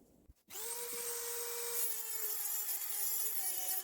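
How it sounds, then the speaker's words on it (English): A Dremel rotary tool with a cutting disc grinds through the metal muffler of a Stihl MS170 chainsaw held in a vise, a steady high whine that starts abruptly after a brief pause and runs continuously and loud. "Dremel and the cutting disc ready to go."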